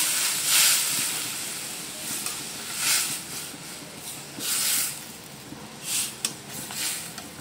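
Masoor lentils with drumsticks poured into a hot, reddened oil tempering, giving loud hissing sizzles that rise and fall in several bursts, close up, with a steady frying hiss beneath.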